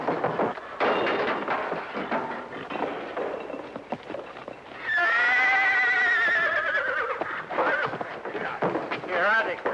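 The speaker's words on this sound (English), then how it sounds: "Whose horse is this?" A horse whinnies loudly for a few seconds, a shrill wavering neigh cutting through a busy mix of voices and background noise, with a shorter second cry near the end.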